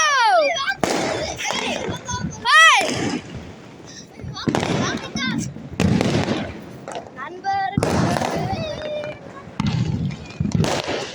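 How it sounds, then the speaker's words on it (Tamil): Diwali fireworks, firecrackers and sky-shot rockets crack and burst repeatedly, some whistling upward, with people talking and shouting throughout. "அப்படியே இந்த சைடு வந்தாலும் பட்டாசு வெடிக்கும்."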